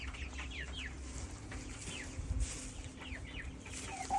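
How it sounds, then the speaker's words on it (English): Chickens on a spring homestead cluck and chirp in quick, fairly faint bursts, with short repeated calls scattered over a low background hum. "That's my noisy chickie."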